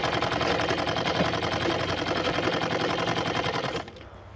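A sewing machine runs and stitches with a fast, even mechanical rattle, loud and close, then stops abruptly near the end.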